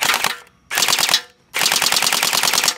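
A toy Groza gel ball blaster fires in full auto in three loud, close bursts of rapid rattling shots, separated by short silent gaps, with no talking.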